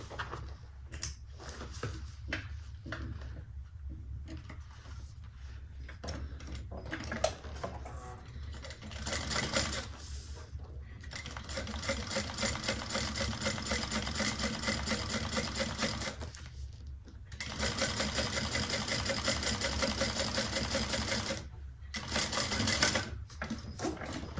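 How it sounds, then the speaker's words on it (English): A sewing machine top stitches a seam on a handbag in several runs of steady close whirring, separated by short pauses. "then we're going to top stitch"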